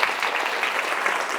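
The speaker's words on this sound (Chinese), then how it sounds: "我们给麦田心灵鼓掌一下。" An audience claps together at a talk, a dense, steady burst of applause that holds evenly for a moment with no speech over it.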